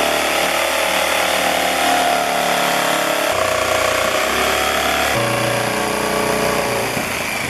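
A power drill bores through hinges on a compost tumbler, giving a loud, continuous motor whine that shifts in speed and pitch a few times, alone without speech.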